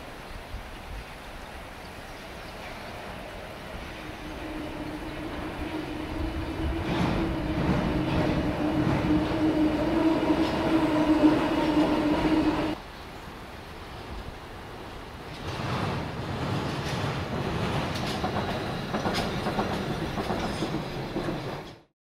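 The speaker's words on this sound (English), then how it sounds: "this monorail only comes every 15 minutes or so and only on the weekends" A weekend monorail train passes outdoors on a cold day, its low rumble and rolling rail noise swelling as it nears, cutting off abruptly, then returning more faintly, with no talking.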